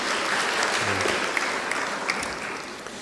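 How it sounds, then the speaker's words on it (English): A conference audience gives a dense, sustained round of applause, loud and continuous throughout with no pauses. "Can we give them another round of applause?"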